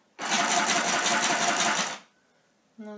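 A portable handheld sewing machine runs on fabric in a single close, loud burst of rapid rhythmic clatter lasting nearly two seconds, then falls quiet before a short tonal sound at the end.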